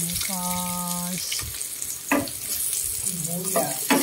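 Garlic sautés in a hot pan with a loud, steady sizzle and occasional spatula scrapes; a brief tonal hum sounds near the start and again toward the end.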